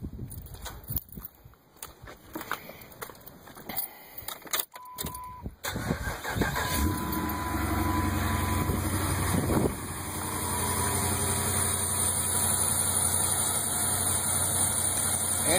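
A 5.7 Hemi truck engine cranks in a few rough bursts, then fires up off an Antigravity Micro Start jump battery and settles into a steady, close idle that holds through the rest.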